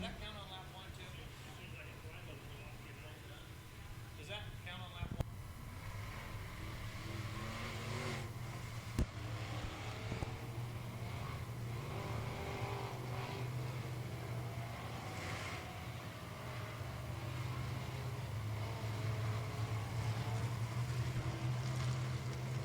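Race cars at a weekly heat race on the Salina Speedway dirt track, a steady loud engine drone that builds slightly toward the end, with an announcer talking over it.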